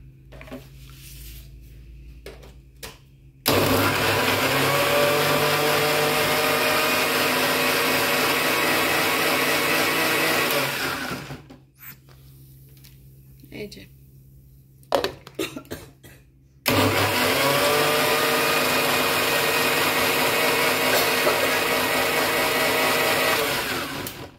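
A mixer grinder blends coriander leaves, green chili and spinach with a little water into a thick paste. Two long, loud, steady whirring runs are split by a short pause with light handling noise.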